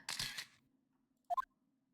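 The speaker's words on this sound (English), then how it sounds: "Why'd you take a picture?" A camera snaps a picture in the Ace Attorney 2 video game: a soft noisy burst, then a quick run of three bright rising electronic blips, clean and alone.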